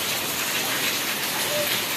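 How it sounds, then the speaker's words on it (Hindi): Heavy rain pours steadily onto a house roof, a dense, continuous hiss with no breaks, close and loud throughout. "ये शानदार बारिश स्टार्ट हो गई है"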